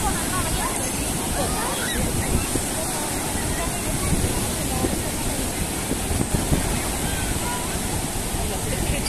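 Sea waves wash continuously onto Rushikonda beach in Vizag, a steady loud roar of surf mixed with wind noise on the microphone and some voices in the background.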